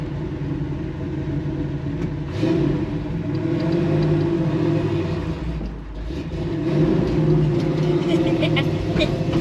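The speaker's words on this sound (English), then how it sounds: "you got to kind of really rev it" A big block Chevy Nova on tall 28-inch tires rumbles and revs, a deep throbbing engine note that swells, dips briefly, then builds again, heard from close range with voices mixed in.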